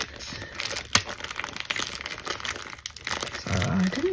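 A plastic bag at an op shop crinkles and crackles close by in a steady, busy rustle, with a sharp snap near the start and heavier handling toward the end.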